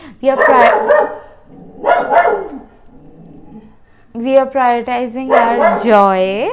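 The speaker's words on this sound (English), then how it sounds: "That's my dog saying, like, take me out, girl." A pet dog barks and yips several times nearby, with whiny, high-pitched tones that come between and over someone speaking clearly to the camera.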